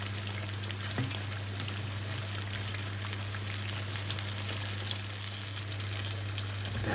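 Battered pumpkin slices deep frying in oil, a dense steady crackling sizzle with a constant low hum underneath, close and continuous with no talk.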